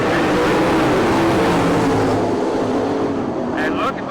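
A pack of 410 non-wing sprint cars roars at full throttle off a race start, a loud, dense engine wall under continuous commentator talk.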